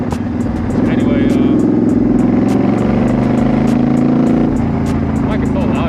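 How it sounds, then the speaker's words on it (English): A Suzuki motorcycle fitted with a loud aftermarket exhaust, heard while riding: a steady, close engine drone with a rise in revs midway, continuous and loud throughout with wind noise. "the bike is so loud now"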